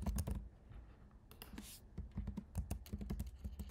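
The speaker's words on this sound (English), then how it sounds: "You would then type in your full name." Quick clusters of crisp key taps on a computer keyboard, close and quiet, typed in irregular bursts with brief pauses between them.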